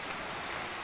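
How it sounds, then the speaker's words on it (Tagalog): Strong waves wash against a clean shore of sand and rocks, a brief, steady broadband rush of surf with a windy, roaring texture and no voices. "Lakas ng alon."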